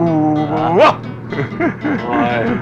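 A dog in a 1994 Hong Kong film gives a sharp rising yelp followed by a few short whimpering barks, close and loud, with a man's brief call.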